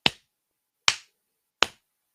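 Three sharp, loud hand claps a little under a second apart, close and dry with silence between, made to sync cameras before a live stream recording.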